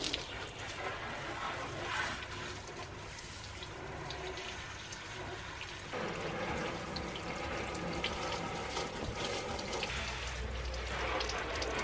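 A pressure-washer spray rinses degreaser off a car during a hand wash, a continuous hissing wash of water striking bodywork that shifts and grows louder partway through, steady and moderately distant.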